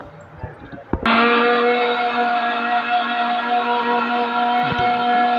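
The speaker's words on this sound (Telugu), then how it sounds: "ఇప్పుడు మెత్తగా పేస్ట్ లాగా మిక్సీ పట్టుకోవాలి." A mixer grinder blends ginger and garlic paste with a little added water. After a brief knock and a moment of quiet, the motor starts with a loud, steady whir that carries on to the end.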